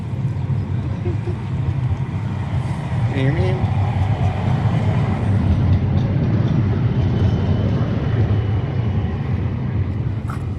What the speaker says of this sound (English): A tram.